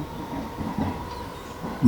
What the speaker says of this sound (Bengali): ভবভূতি ট্রেনটা চলে না যাওয়া অবধি কোনো কথা বলল না